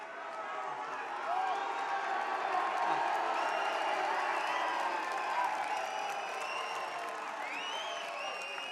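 A crowd at a fight press conference in Perth, a sustained roar of cheering, whoops and applause from a large audience, loud and continuous, with a voice faintly under the noise.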